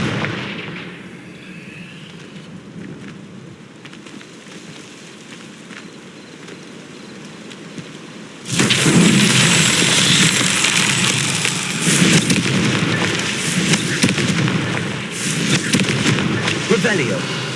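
Confringo blasting spells explode in Hogwarts Legacy, a dense, loud burst of fiery blasts and crackling impacts erupting after a quieter stretch and continuing in rolling waves.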